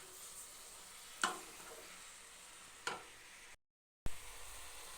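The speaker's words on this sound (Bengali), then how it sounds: "বাঁধাকপির ঘন্টে দিলাম তেজপাতা, শুকনো লঙ্কা, জিরে ফোড়ন" Bay leaf, dried chilli and cumin seeds for a cabbage ghonto crackle in hot oil: a faint, steady hiss broken by two sharp pops, then a brief dead-silent gap before the sizzle resumes.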